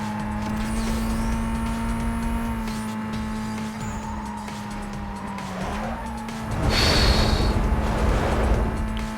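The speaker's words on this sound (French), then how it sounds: "c'est le petit coup de rupteur avant de passer la vitesse là, quand on est au rapport" In the Need for Speed Most Wanted racing game, a car engine screams against the rev limiter before a gear change, a sustained high whine that drops in pitch, then tire squeal and skidding noise burst in near the end.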